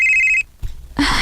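A telephone rings with a steady electronic trill, loud and close, then cuts off, followed by brief handling sounds and a short burst of noise.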